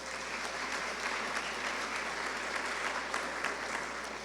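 An audience at an industrial forum in Chiclayo applauds a speaker, giving steady, even clapping from a sizable crowd throughout, heard at a moderate distance.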